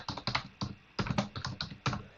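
Rapid bursts of computer keyboard typing, close and fairly loud, with short pauses between runs of keystrokes as a query is typed during Python coding.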